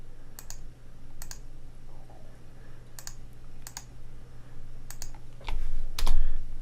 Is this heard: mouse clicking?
yes